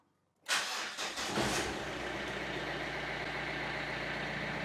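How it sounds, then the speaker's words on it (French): A Renault Clio engine cranks briefly, catches with a loud start and then settles into a steady idle heard up close. "Mais au moins, le véhicule démarre."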